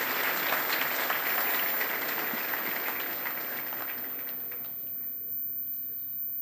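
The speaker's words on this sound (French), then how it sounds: "Applaudissez bien, Simon." A church congregation at a patronal feast applauds in a dense, sustained burst that fades gradually toward the end, heard from within the crowd.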